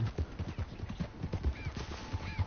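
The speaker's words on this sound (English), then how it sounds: "Get on your horse." Horse hooves clip-clop in a steady trotting rhythm over dirt in the Red Dead Redemption II video game, clear and close, with faint ambient tones and a brief distant whistle-like sound in the background.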